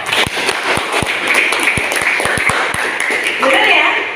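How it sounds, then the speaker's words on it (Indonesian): Classroom applause for a student named Reza, a brief patter of scattered claps with taps and a high ping, close by, with classroom chatter underneath. "Iya, tepuk tangan buat Reza."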